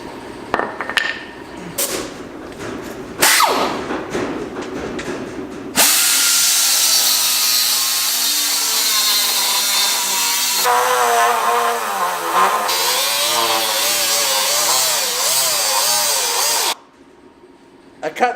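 A power tool grinds steadily and loudly through pinch weld tabs on a car body's pinch seam, following a few sharp knocks and short bursts, with a voice speaking in between.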